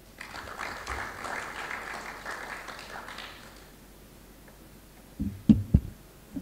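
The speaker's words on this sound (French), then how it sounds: "Sous vos applaudissements." Applause from the audience at the closing session of a regional conference on the ECOWAS fiftieth anniversary, steady and moderate for about three seconds, then fading out, followed by a few louder bumps and knocks near the end.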